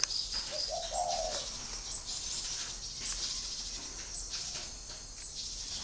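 Caged birds with red beaks and yellow legs give thin, high chirps and a low coo over a steady background hiss, fairly faint and continuous.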